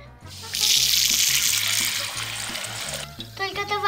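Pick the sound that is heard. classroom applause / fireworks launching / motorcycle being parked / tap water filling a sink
tap water filling a sink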